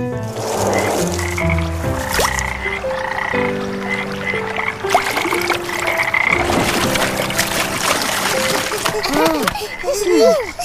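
Frogs croak loudly and continuously nearby, dense overlapping calls with rising pulsed notes, while children talk over them.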